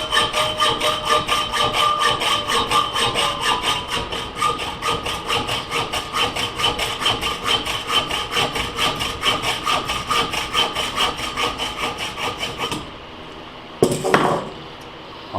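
A hand saw cuts on the push stroke, its rapid, even rasping strokes repeating close and loud for about twelve seconds before stopping, followed by a single clunk.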